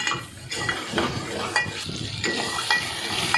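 Ground coriander and potatoes stir-fry in a pan for spinach-potato curry, with a steady loud sizzle and repeated scraping strokes of a spoon against the metal, no talk over it.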